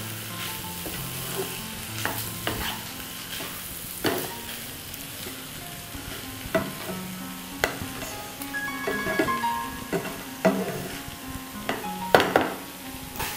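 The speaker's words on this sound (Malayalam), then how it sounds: "അപ്പോൾ അതൊന്ന് കുറച്ച് നേരം നമുക്ക് അടുപ്പിൽ വെച്ചിട്ട് ചോറിനെ ഒന്ന് വറുത്തെടുക്കാം." Fried rice being stir-fried in a pan on the stove, a steady sizzle broken by repeated scraping and clinking strokes of the spatula against metal, close and fairly loud, with no talking.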